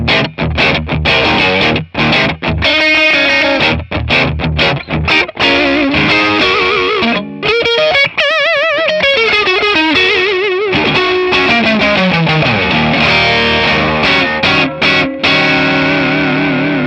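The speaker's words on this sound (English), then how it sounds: "That sounds like a tube screamer in front of something." Electric guitar through an Ibanez Tube Screamer overdrive pedal modelled on a ToneX, playing crunchy, driven chords and riffs with short choppy breaks. Loud and close, with no talk.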